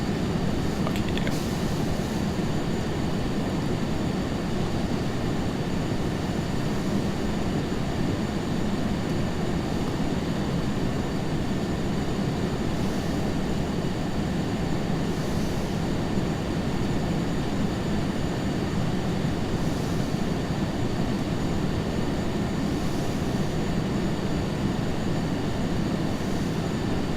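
A MilViz T-38A jet rolls down the runway during pattern work in a flight simulator, its steady broadband engine roar and rumble continuing loud and unbroken throughout, with no talk.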